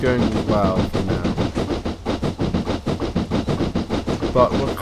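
A 7F steam locomotive in Train Simulator 2014 pushes a heavy train, with a steady rhythmic clatter of wheels and chuffing running throughout, loud and close, while a voice talks over it.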